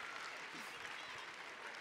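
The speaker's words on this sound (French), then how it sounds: "Allez, on l'applaudit" Audience applause for a young athlete at a gathering honoring sportswomen from the neighborhoods, a steady, dense clapping that fills the whole moment with no pause.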